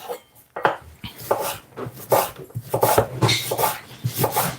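A knife slices across large onions on a cutting board, giving a string of uneven rasping cuts and close woody knocks at an irregular pace, with no talking.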